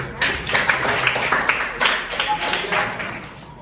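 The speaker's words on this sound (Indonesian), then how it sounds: "Oke, tepuk tangan dulu." Classmates clap in a classroom after a group presentation during a teaching practice lesson, a scattered run of claps under a fairly close, moderate-level spread with voices mixed in.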